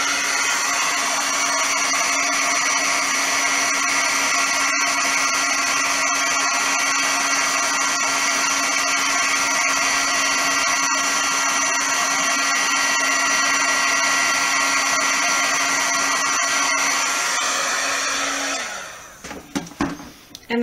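Heat gun heat-setting red embossing powder, giving a loud, steady whirring blow with a constant tonal whine that runs for about eighteen seconds before cutting off and leaving a few small clatters.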